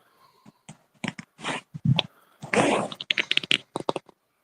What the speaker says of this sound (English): It sounds like he's typing.